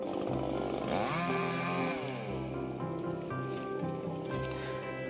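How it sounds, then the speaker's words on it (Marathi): A brush cutter clears shrubs on a hillside fort during a conservation drive at Chafed, Devgad, Sindhudurg; its small engine whines loudly and continuously up close, pitch rising and falling as it bites into the brush. "आता इथे आपण कटर जोडतोय आणि कटर जोडून झाल्यावर समोरची झाडी तोडायला घेणार आहोत"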